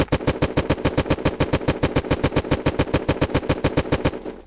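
Automatic gunfire in the video game Unturned, shooting away plates: a fast, even burst of about thirty loud, close shots in steady rhythm, ending abruptly.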